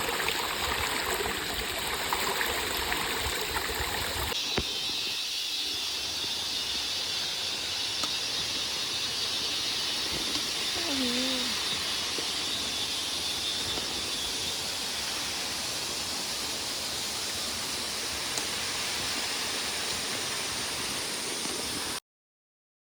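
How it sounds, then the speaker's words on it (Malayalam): A mountain stream runs over tree roots along a forest trek trail, a steady broadband rush of flowing water that stays even and continuous throughout, close and alone with no voices. "ഈ ഒഴുകി വരുന്ന വെള്ളം പല മരങ്ങളുടെയും വേരുകളിൽ തട്ടി ഒഴുകി വരുന്നതുകൊണ്ട്"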